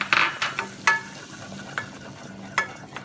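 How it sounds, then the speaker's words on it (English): Flour is stirred quickly into melted butter in a pan to make a roux for macaroni and cheese, with close, repeated scraping and swishing strokes over a faint sizzle and no talking. "you add 2 tablespoons of white flour, and you stir it really fast to make a paste"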